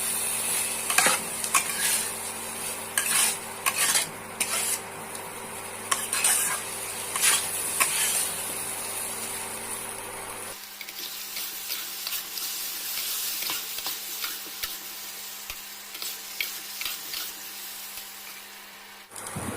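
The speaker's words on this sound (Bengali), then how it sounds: "মশলাগুলোকে ভালো করে কষিয়ে নিতে হবে।" Ground cumin, coriander and chili powder sizzle softly in a pan while a spoon scrapes and stirs them in steady, irregular strokes, up close and fairly quiet.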